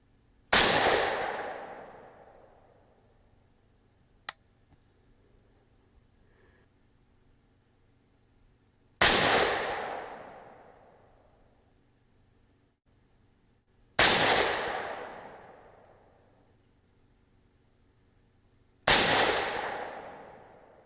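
Four loud, sharp rifle shots from a .308 Win firing 168-grain Hornady Match bullets ring out several seconds apart, each with a long echoing decay. A small click falls between the first two.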